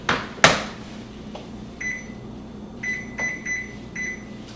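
An oven is set to preheat to 425: a couple of sharp knocks or a door thud come first, then a series of short electronic button beeps in uneven clusters over a quiet room hum.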